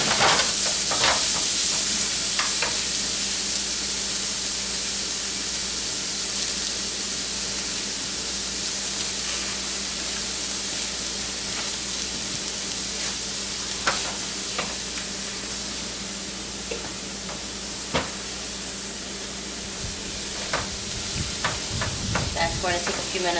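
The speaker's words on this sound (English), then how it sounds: "you want to saute your onions and reduce them a bit before you add your ground beef" Onions sautéing in a pan ahead of ground beef, a steady close sizzle and hiss throughout with occasional stirring clinks.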